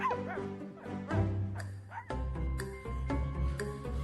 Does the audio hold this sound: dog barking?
yes